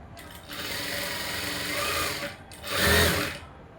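A sewing machine runs in two steady bursts, stitching the lining of a blouse at close range, with a short pause between the runs and no voices.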